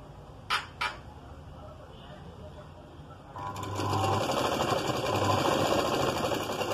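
A sewing machine stitches a net blouse, starting after two brief clicks and running steadily as a close, fast mechanical whir to the end, with no talk over it.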